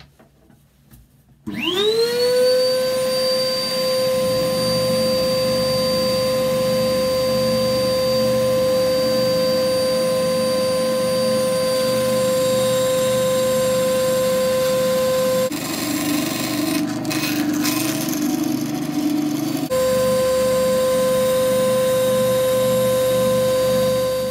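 A bandsaw cuts a wood worktop after it spins up, whining steadily with a loud, sustained tone and a grinding rasp partway through the cut.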